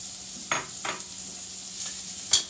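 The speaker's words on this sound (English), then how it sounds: "in the other pot, we're going to go in with the onions" Onions fry in a pot with a steady close sizzle, broken by a few soft stirring scrapes and a sharper clink near the end.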